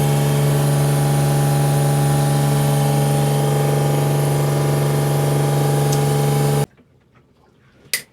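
A boat watermaker pump running to make fresh water, a loud steady mechanical drone with a rhythmic whine that cuts off abruptly near the end, leaving quiet with a faint knock.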